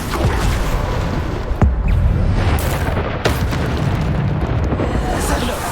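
Bombarda spell blasts in Hogwarts Legacy combat, with loud booming explosions in a dense, continuous barrage of spellfire and a few sharper bursts standing out. Voices shout spell names over the din.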